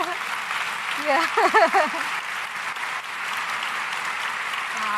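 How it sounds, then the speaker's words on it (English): Audience applause at a talk on living with chromosome 18 disability, a steady round of clapping with a brief spoken word and voices rising over it midway. "Oh, you got claps."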